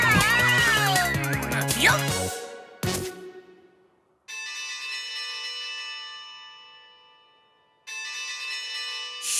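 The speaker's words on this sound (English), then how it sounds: "Hear that? The ringing bell peppers are ripe!" Cartoon bell chimes ring from ripe bell peppers in a kids' cartoon: a bright bell strike after busy music, then two long sustained ringing tones that fade out, loud and clear.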